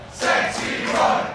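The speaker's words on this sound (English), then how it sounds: "Hear the crowd getting behind Sexy Roy, the chants are what you're hearing." Wrestling crowd at an AWF High Voltage event chanting for a wrestler, a loud rhythmic swell of massed voices rising and falling across the arena, close and sustained.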